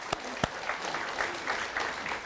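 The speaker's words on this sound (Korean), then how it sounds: "우리 하나님께 감사의 박수를 드리겠습니다." A church congregation claps during a worship service, a few sharp close claps at the start, then softer, even applause spread through the room.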